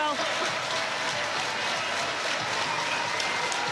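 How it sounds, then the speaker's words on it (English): A stadium crowd on its feet applauding before the women's Rugby League World Cup 2021 semi-final between England and New Zealand, a dense, steady wash of clapping throughout. "And the crowd on their feet applauding"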